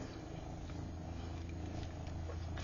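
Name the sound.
cat purring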